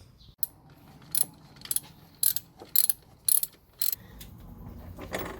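A wrench or spanner ratchets in several short, sharp clicking bursts while slackening the accessory belt tensioner on a 2004 Audi A3 2.0 FSI engine, close up against a quiet workshop.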